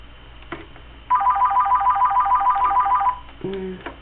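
A mobile phone rings with a bright, trilling electronic ringtone that repeats rapidly for about two seconds before stopping. Soft speech follows it, heard as if over a phone line.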